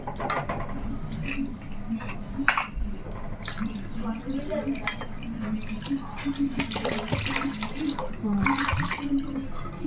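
Water poured into a cooking pot of goat head curry pieces, a steady close splashing and trickling that runs unbroken throughout.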